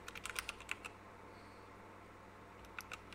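Quick, faint clicks from a computer keyboard as a short search term is typed, a brief flurry of keystrokes, then a pause and a couple more taps, with no talking.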